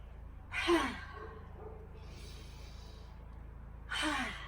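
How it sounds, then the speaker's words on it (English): Two deep, forceful breaths out during a qigong exercise, each a breathy rush of air about half a second long, separated by quieter breathing over a steady low background hum. "Breathing out, breathing in."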